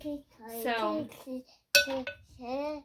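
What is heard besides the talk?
magnetic kitchen drawer locks clicking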